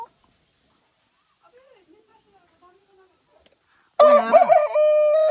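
A rooster crows loudly and close by, one long drawn-out cock-a-doodle-doo that follows a few seconds of faint, quiet sounds.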